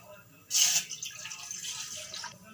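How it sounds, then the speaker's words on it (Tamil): Milk is poured into a cooking pot for Tamil pal payasam after the stove is switched off. A soft, splashing pour starts suddenly and runs for nearly two seconds, quiet and close. "ஒரு பாத்திரம் வச்சிடலாம் அதில் நம்ம பால் சேர்த்துக்கலாம்"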